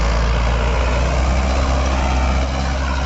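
Heavy, steady drone of a tractor engine working a field, loud and close, with a deep low rumble that holds constant with no talk over it.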